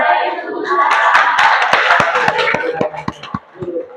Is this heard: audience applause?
yes